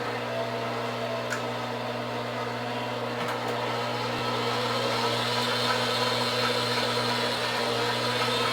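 An electric mixer whirs steadily while whipping butterscotch pie filling. It gives a continuous, fairly loud motor hum with no pauses and no voices.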